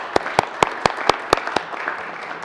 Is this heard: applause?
yes